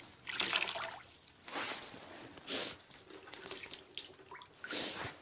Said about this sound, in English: I will rinse my sponge again.